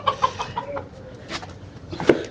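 Chickens in a backyard coop with a newly bought rooster give a few close, clipped clucks and short calls, scattered over a quiet background.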